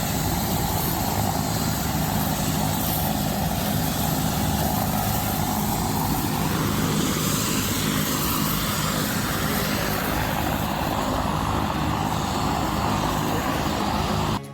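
A helicopter waiting at a police barracks in Rímac, Lima, heard as a loud, continuous engine and rotor roar that stays close and steady throughout with no voices.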